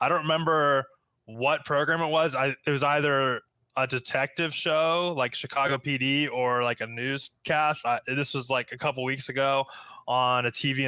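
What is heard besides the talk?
None of the usual background noises is heard.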